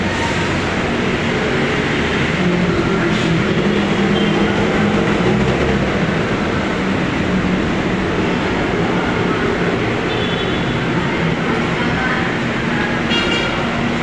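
Steady rumble of an MRT train at Taft Avenue Station platform, a continuous loud roar with faint chatter and a brief high tone near the end.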